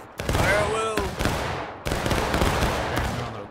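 Infantry gunfire in the large-scale multiplayer war game Generals at War: dense volleys of rifle shots crackling in two loud bursts, with a brief gap between them and faint voices beneath.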